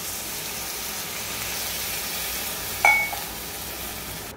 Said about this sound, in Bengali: ঝোল দিয়ে দেব।